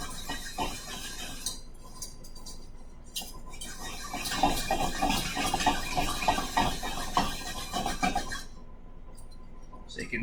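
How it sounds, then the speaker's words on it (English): A whisk scrapes and clicks rapidly against a pan while chocolate gravy is stirred, a busy metallic rhythm that swells louder in the middle, with no one talking. "Just make sure you're whisking around the edges of the pan."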